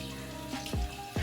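Tap water runs steadily into a sink while a makeup sponge is rinsed, a continuous close wash of splashing with a few brief louder gushes, no talking.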